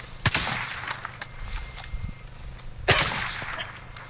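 Gunfire aimed at a helicopter in Call of Duty Warzone: two sharp, punchy shots about two and a half seconds apart stand out, with softer pops and shuffling game noise between them.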